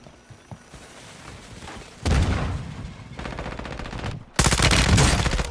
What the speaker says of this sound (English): Somebody just sniped at me.